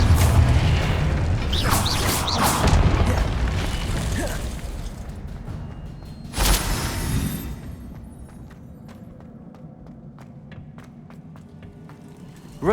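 A magical Confringo fire spell from Hogwarts Legacy detonates with a deep booming blast, followed by a sharp burst and a fading rumble with scattered debris clicks, loud and close.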